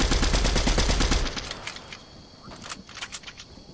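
Gunfire in Fortnite: a fast, loud burst of automatic shots for about a second, then scattered sharper pops and clicks at a lighter level, with no one talking.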